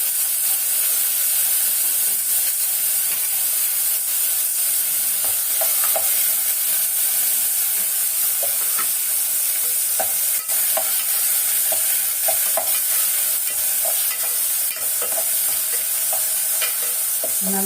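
Onions, tomato and curry leaves for sambar sizzle and fry steadily in a hot pan, a constant hiss broken by occasional stirring scrapes and small pops, close and alone.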